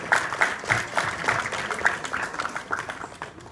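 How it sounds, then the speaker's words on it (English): Guests at a Christmas party in Hawaii applaud after a blessing over the food: moderate, somewhat distant clapping with audible individual claps, steady for a few seconds and gradually thinning. "How about a big round of applause for a beautiful blessing?"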